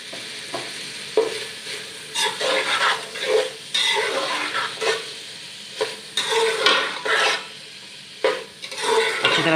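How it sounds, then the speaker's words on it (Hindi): Chana pulao ingredients with fresh mint are stir-fried in a pot, with a steady sizzle under repeated scraping strokes of a spoon against the metal, close and irregular in rhythm. "अच्छी तरह से भून लेंगे सारी चीज़ों को।"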